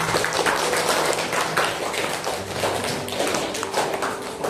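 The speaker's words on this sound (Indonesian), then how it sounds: "kasih aplaus untuk teman" Classmates in a fifth-grade class applaud a friend, a dense continuous burst of clapping hands filling the room at steady loudness throughout, with faint voices underneath.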